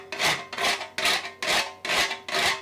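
Nutmeg grated by hand for homemade sausage bread, five steady rasping strokes in a regular rhythm, close and fairly loud, with no talking.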